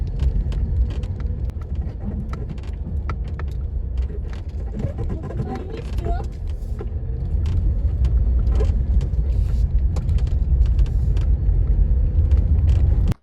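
A car drives along a road away from the city, with a loud, continuous low engine and tyre rumble heard from inside the car. The rumble grows slightly stronger partway through, along with a few small rattles and no talking.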